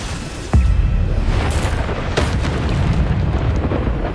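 The Bombarda blasting spell goes off in Hogwarts Legacy, a sudden deep boom followed by a sustained rumbling roar, loud and close, with a second burst partway through.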